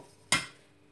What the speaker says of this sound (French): Maintenant, je prends ma casserole.